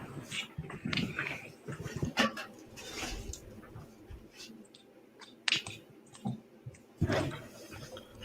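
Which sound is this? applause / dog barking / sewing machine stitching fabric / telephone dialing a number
dog barking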